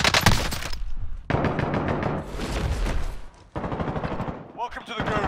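Rapid bursts of automatic gunfire crack through a Call of Duty Warzone match, loud and dense in several volleys with brief gaps, while players talk over the shooting.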